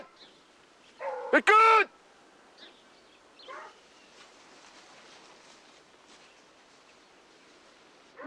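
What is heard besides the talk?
Fauve de Bretagne hunting dogs baying during rabbit hunt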